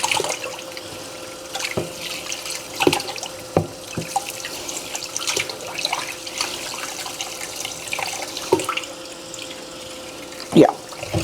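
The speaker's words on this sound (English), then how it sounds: "drain out the water, excess water," Tap water runs and splashes in a kitchen sink as fish is washed and drained before frying, a continuous pattering stream broken by sharper drips and clatters, near and fairly loud.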